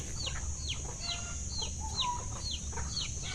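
Backyard chickens clucking steadily, several birds overlapping in short repeated calls over a constant hum of outdoor background noise.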